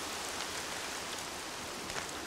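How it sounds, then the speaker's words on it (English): Steady rainfall in the Horizon Zero Dawn video game, an even broadband hiss of drops with no distinct pattering, faint and continuous, no voices. "she's reacting to the rain"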